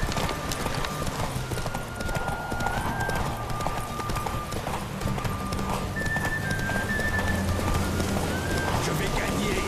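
Rapid hoofbeats of a mare in The Witcher 3: Wild Hunt clatter in a steady galloping rhythm, with a horse's whinny and background game effects, while a voice talks over them.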